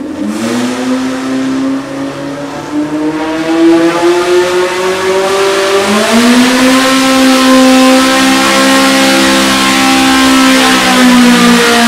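A loud carbureted EMPI-built engine revs hard and holds at high RPM on a test stand during an engine competition, its pitch climbing in stages with a raspy, buzzing roar.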